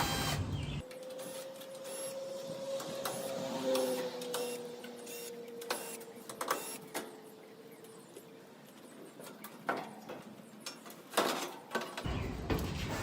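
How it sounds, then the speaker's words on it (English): Screws are backed out of an air conditioner cover with a power driver, giving a close whirring motor tone, then a run of small clicks, taps and rattles. "take the screws off that are required to get this cover off"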